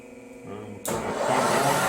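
A manual milling machine's cutter switches on with an abrupt burst of motor noise, then keeps spinning with a steady broadband whir close by.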